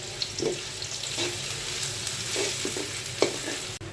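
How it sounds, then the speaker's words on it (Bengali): Steady sizzle of onions frying in a pan with a few scraping stir strokes, close and continuous, no voices. "পেঁয়াজটা আমার ভাজা হয়ে গেছে"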